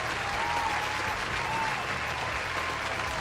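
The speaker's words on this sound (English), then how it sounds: "Claps to everybody." Steady, dense applause from a crowd fills the whole stretch at an even level, with no pauses and little else audible.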